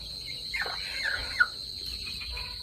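Chickens in a poultry shed give a few soft clucks over a steady high background hum, with one brief louder note near the middle and no talking.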